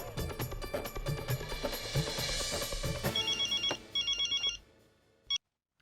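A telephone rings in a Hindi family sitcom scene, with short repeated bursts of electronic ringing after a fuller musical passage, fairly loud and ending abruptly.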